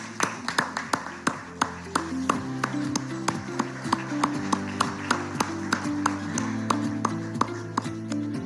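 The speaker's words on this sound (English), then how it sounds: "A round of applause, please." An audience at a post-budget stakeholder interaction with India's Union Finance Minister claps in a steady, even rhythm, with sharp, close hand claps over sustained tones throughout.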